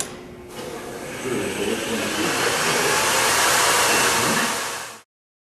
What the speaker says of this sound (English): We're ready to fire up the lathe and begin cutting.